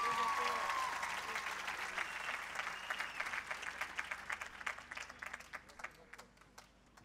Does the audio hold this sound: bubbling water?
no